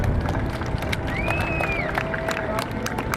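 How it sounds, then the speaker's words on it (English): Airshow crowd at NAS Oceana clapping and cheering steadily, a dense wash of applause with a faint tone gliding through the middle. "let's give this gentleman a great round of applause"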